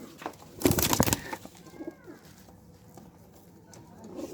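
Pigeons, including a Dhakaiya pigeon with clipped wings, cooing softly nearby after a brief burst of flapping wings, the low throaty coos repeating at intervals over a quiet background.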